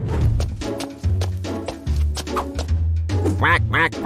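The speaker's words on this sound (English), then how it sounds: "Quack, quack, quack." A cartoon duck quacks in a quick series of nasal, close calls, with a burst of higher, faster quacks near the end.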